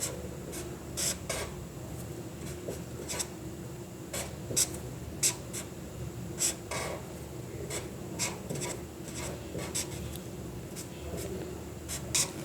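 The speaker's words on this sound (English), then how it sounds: "Let me draw both the products." Chemical structures drawn by hand while working through an aldehyde and ketone protection mechanism: steady scratchy pen or marker strokes with sharp taps, close and moderately loud over a soft room hiss, with no talking.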